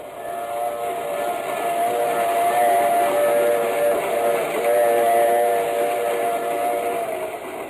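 A train doing 75 miles an hour rumbles steadily along, heard from inside the baggage car, with a constant droning hum and faint whistle-like tones, loud and continuous throughout.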